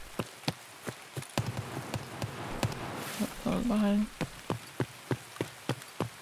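Hard rain keeps falling in Escape From Tarkov, a steady hiss punctuated by crisp rhythmic ticks and spatters, while someone briefly speaks over it midway.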